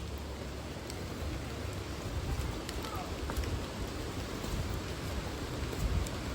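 Rain falling on a quiet Sunday at a coastal tourist spot in Pesisir Selatan, West Sumatra, a dense, steady hiss of drops with occasional sharper patters, heard without talk.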